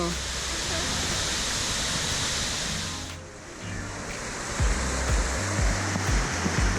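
Steady, full roar of the waterfall at Havasu Falls, close and continuous, dipping briefly midway before resuming with a few low thumps underneath.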